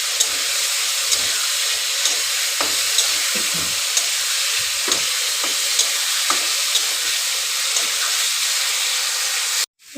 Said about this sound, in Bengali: তারপরে ভালো করে মশলাটা কষবো